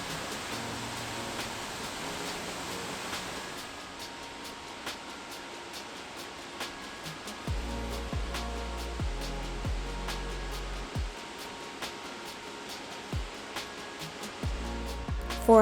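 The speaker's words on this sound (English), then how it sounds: "this waterfall has a drop of 200 feet" A 200-foot waterfall on Iceland's southern coast produces a steady broadband roar, a continuous rushing wash with no breaks, moderately loud and heard from some distance.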